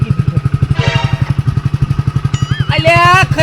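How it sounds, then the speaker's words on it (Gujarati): A motorcycle engine runs steadily close by, its rapid, even pulsing throbbing throughout, with bursts of music and sound effects layered on top in a Gujarati comedy sketch about a newly bought bike. "એક બાઈક લાવ્યો છું"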